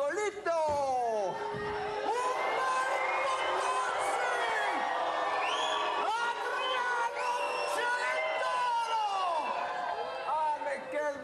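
A large crowd cheers and whoops loudly without pause, with shouts and chatter layered over one another and individual voices rising and falling in the din.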